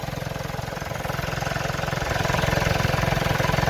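Steady rhythmic chugging of an idling Mitsubishi Outlander DI-D diesel engine after EGR valve cleaning, close and continuous, its pulse quickening slightly toward the end.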